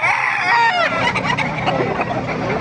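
Roosters and other fowl cluck and crow amid the busy chatter of a gamefowl market in Bocaue, Bulacan, where a Gilmore rooster is on offer; several overlapping bird calls sound close and loud.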